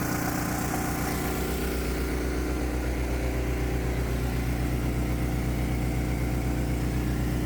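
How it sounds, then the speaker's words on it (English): Small engine on a test stand driving an alternator at about 3600 RPM, holding a loud, steady high-speed drone with a constant hum throughout, close up and with no voices. "Let's run the engine up to max speed."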